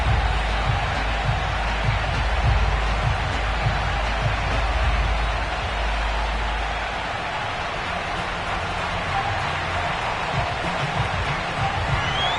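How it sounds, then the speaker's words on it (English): A sold-out Cincinnati stadium crowd roars in an EA Sports NFL game as the Bengals face the Jaguars, a dense continuous wash of cheering that eases slightly partway through. "The enthusiasm of this Cincinnati crowd in full effect a moment ago as their Bengals took the field to the delight of this sold-out crowd."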